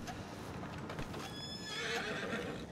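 Horse in the video game Red Dead Redemption 2, neighing and whinnying over hoof clip-clop and a busy game soundscape, moderately loud with no speech.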